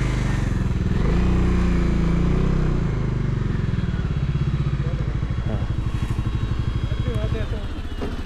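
A motorcycle engine runs at a steady idle on top of Khardung La, its low throbbing pulse close and continuous under nearby talk.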